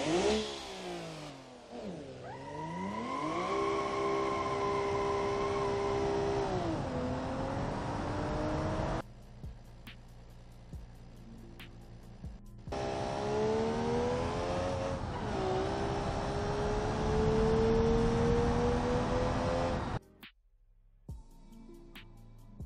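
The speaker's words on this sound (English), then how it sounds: "I'll just let you listen to the car really quick so you can hear the difference" A tuned car engine in BeamNG.drive revs hard, its pitch climbing and falling through several loud throttle bursts, with brief drops to idle between them.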